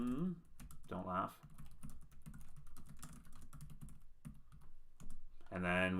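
Rapid, light clicks of keys on a computer keyboard as someone types an answer into a form. The soft, quiet tapping runs steadily throughout, with a voice speaking briefly at the start and again near the end.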